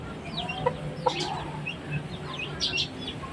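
Silkie chickens kept alongside lovebirds give several short, close clucks and calls, with light chirps mixed in over a quiet background.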